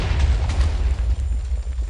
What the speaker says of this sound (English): mine it, sets off the TNT, and then big explosion